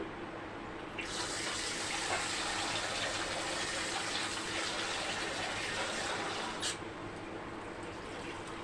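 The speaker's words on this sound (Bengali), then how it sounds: "ঢেলে দেওয়ার পর এখানে আমি উপর থেকে দিয়ে দিচ্ছি ঠান্ডা জল" Cold water pours from above over boiled chowmein in a colander, a steady, close rush of running water that gushes a bit harder in the middle stretch, heard alone.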